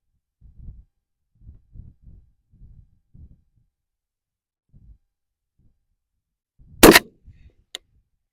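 A single loud rifle shot cracks sharply at long range, standing alone after a few faint low thumps, with a brief faint ping following about a second later.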